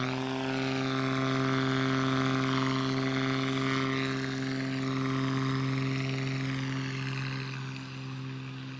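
Steady droning propeller engine of a light aircraft taking off from a grass airfield, loud and sustained close by, its pitch wavering slightly as it fades a little toward the end.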